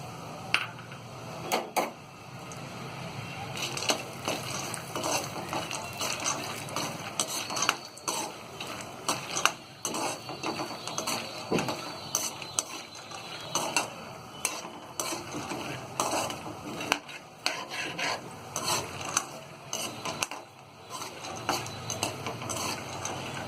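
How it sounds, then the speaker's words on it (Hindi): Peanuts frying in hot oil for a Diwali poha chivda, crackling and popping steadily while being stirred with clinks of utensil on pan, close and continuous without talk. "तो यह मूंगफली भी फ्राई हो गई है और ये देखिए तेल में फटने लगी है"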